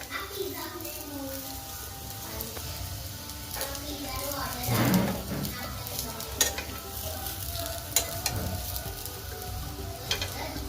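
Steamed kothimbir vadi, coriander fritters, shallow-fry in a little oil over medium heat after being flipped, with a continuous close sizzle and a few stirring knocks while a voice talks quietly underneath.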